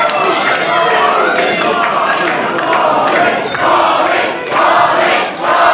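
A loud wrestling crowd at an EPW Coastal Championship match roars and chants in sustained waves, with rising swells of shouting and cheering throughout.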